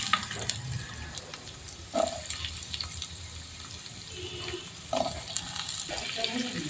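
Cut pumpkin pieces frying in hot oil seasoned with five-spice and a green chilli, a steady close sizzle broken by louder stirring scrapes around two and five seconds.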